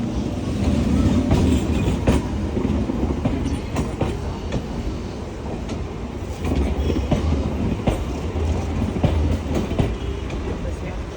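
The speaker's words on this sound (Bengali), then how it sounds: "আজিমগঞ্জ বহরমপুর মেমু ঢুকছে বহরমপুর কোট রেল স্টেশনের 3 নম্বর প্ল্যাটফর্মে।" The Azimganj-Berhampore MEMU train on its first run pulls into platform 3 at Berhampore Court station, a loud rumble with rhythmic wheel clatter and rattling cars sustained throughout, heard close from the platform.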